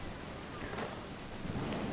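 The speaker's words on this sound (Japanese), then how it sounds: "嵐じゃい。" Video game thunderstorm with heavy rain, a dense continuous hiss of downpour with low thunder rumbling underneath, steady and close throughout.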